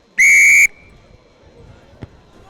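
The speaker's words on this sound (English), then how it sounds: "Just a shrill of the whistle there, and Jack Harrison gets the second half unde" Shrill referee's whistle at a rugby match between Peebles and Newton Stewart restarting play, one loud half-second blast followed by quiet open-air ground ambience and a faint distant thump.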